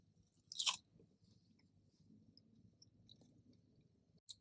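Crispy fast-food French fries with the skin left on being chewed up close: one loud crunchy bite, then quiet soft chewing, then a second short crunch at the end, no talking.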